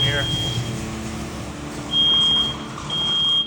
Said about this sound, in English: Oh, you just set the smoke alarm off in here.